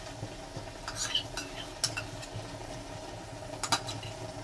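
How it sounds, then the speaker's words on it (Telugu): Fresh milk cream is stirred in a pan over a high flame, soft scraping and occasional metallic clinks of a spoon against the pan over a low hiss, quiet and close, with no talk. "హై ఫ్లేమ్లో పెట్టి కలుపుతున్నానండి"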